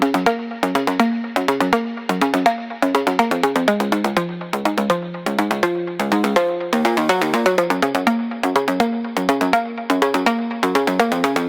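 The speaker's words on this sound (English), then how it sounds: "we're just gonna scroll through some different guitar amp settings to distort the signal before it goes into the" A bright, repeating synth-like pattern of quick plucked notes runs through a gritty, amp-distorted reverb tail, steady and fairly loud with no voices.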